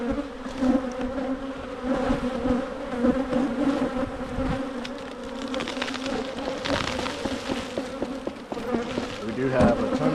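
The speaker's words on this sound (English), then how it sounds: "We do have a ton of bees up here." Honey bees buzzing densely around an open hive in early spring, a loud, continuous swarm drone with individual bees passing close by, no talk.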